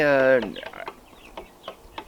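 A backyard chicken in North Idaho lets out a loud, drawn squawk, then a string of short, scattered clucks nearby.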